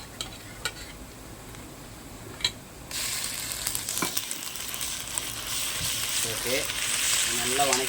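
Ginger garlic paste hits an iron kadai in a home kitchen, making a loud, steady sizzle that swells and stays constant, with scattered spoon scrapes and clinks against the pan.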